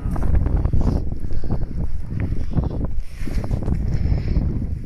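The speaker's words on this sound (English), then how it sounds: "Oh, it's cold and windy." Strong wind buffets a rocky sea shore on a cold day of UK sea fishing, a steady loud roar of gusts and microphone rumble with no voices.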